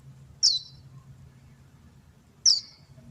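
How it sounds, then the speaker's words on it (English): An adult bird calls near a fledgling that is learning to fly: two sharp, high chirps about two seconds apart, fairly close and clear against a quiet background. "I think that's his mommy's chirp."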